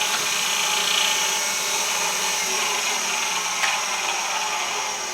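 Small electric motor of a pantograph engraving machine runs steadily while cutting a stamp, a continuous high whirring hum with a faint grinding edge and one brief tick, close and fairly loud.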